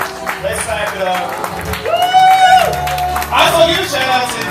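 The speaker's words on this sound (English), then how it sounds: "Yes, let's clap it up. Let's clap it up." A crowd claps and cheers at a marriage equality celebration in Chicago. The applause is loud and sustained, with whoops and shouts over it and a voice over a loudspeaker.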